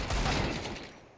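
A short burst of gunfire in Counter-Strike 2 on the Dust2 map, a quick loud volley of shots that fades out within about a second.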